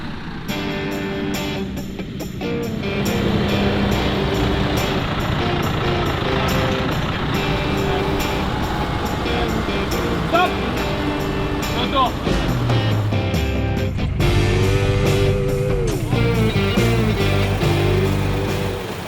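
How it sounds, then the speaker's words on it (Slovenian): A New Holland T5 130 Dynamic Command tractor with a 4.5-litre four-cylinder 130 hp FPT engine and dual-clutch gearbox runs loudly during a tractor race, its engine note rising and shifting as voices talk over it. "Pa še tale modra zvarinca, New Holland T5 130 Dynamic Command."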